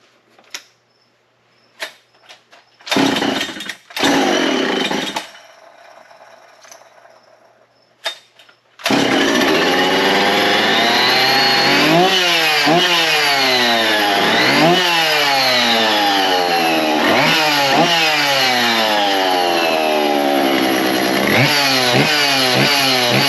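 An old yellow 55–65cc chainsaw fires on choke after a few short bursts and stops, then settles into a loud, steady close-up run with repeated revving swells.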